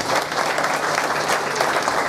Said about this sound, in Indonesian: tepuk tangan untuk kebersamaan